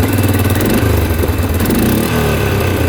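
An ATV engine being revved after restarting during repair of a used machine bought cheap from a dealership, a loud, steady buzzing drone running close and continuous throughout.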